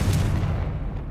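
A Confringo blast spell cast in Hogwarts Legacy, a single deep, booming burst that rumbles loudly at the start and then gradually fades away.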